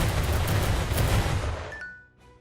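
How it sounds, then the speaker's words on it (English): Ship cannons fire a barrage in the naval game Uncharted Ocean, a dense, loud rumbling volley of blasts that rolls on for about two seconds, then fades into a quieter tail with a faint tone. "Fire the second barrage!"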